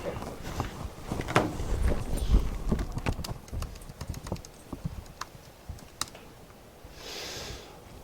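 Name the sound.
typing on a computer keyboard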